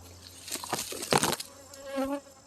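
A few honeybees chase a beekeeper away from the hive on a farm during an inspection, their close buzzing rising and fading as they fly past.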